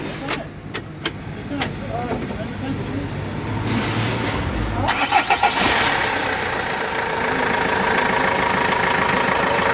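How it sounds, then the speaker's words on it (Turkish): A Renault Master van engine cranks and catches, then settles into a steady mid-pitched idle, loud and close, after some clicks and handling noises. "Çalıştıralım bir arabayı."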